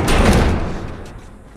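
A heavy door slams shut with a loud thud that decays over a second, as doors are barricaded in The Last of Us video game.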